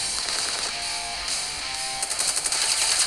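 UMP fire in a shooting video game, rapid automatic bursts that run fairly loud and dense, with a quicker rattling pulse of shots toward the end.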